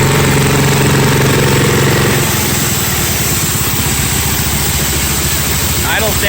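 Air compressor engine settling from a loud run into a lower, steadier idle, a continuous close rumbling chug that fills the clip and stays noisy throughout.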